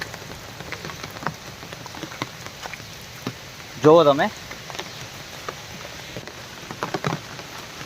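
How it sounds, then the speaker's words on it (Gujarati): Heavy rain pouring onto the old stone stairs of Girnar near a waterfall trail, a dense steady patter close by, with someone speaking briefly over it. "વરસાદ જોરદાર ચાલુ છે"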